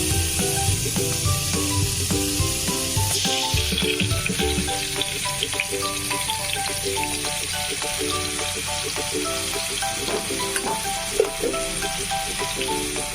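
Eggplant slices frying in hot oil give a strong, continuous sizzle and crackle throughout, with a faint rattle of handling underneath.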